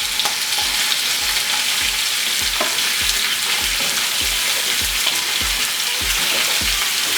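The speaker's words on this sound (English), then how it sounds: "Oh yeah, love that sizzle." Chicken pieces laid skin side down in a hot oiled pan sizzle with a steady, loud broadband crackle, punctuated by regular soft knocks roughly every half second, as if the pan is being stirred or shifted.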